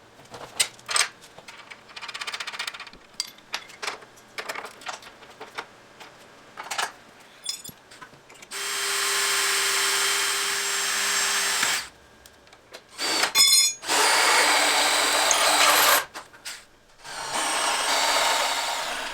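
Clicks and short bursts lead into a power drill drilling holes in steel on a 1974 Ford Superduty axle, running in several sustained, loud bursts with brief pauses between them, a harsh whirring grind.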